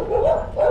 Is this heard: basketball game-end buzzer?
no